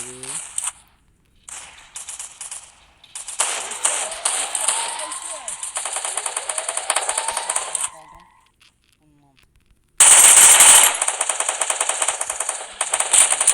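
Automatic gunfire in the mobile battle-royale shooter Free Fire during a team clash, loud rapid bursts that come and go, stop briefly, then return in a dense, very loud volley.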